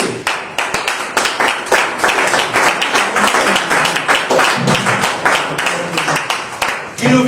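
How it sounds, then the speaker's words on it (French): An audience claps steadily and densely throughout for Frédéric Soupé at a company presentation, the applause close and sustained. "Applaudissez pour monsieur Frédéric Soupé."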